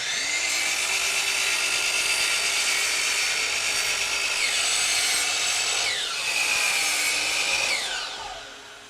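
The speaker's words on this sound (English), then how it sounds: "we'll just make our 3 cuts, our 90 and our 245s, to establish where the kerf will be." Power miter saw slicing crown molding held in a wooden jig, a steady loud whine running nearly nine seconds with several distinct cuts sweeping through the wood, then spinning down at the end.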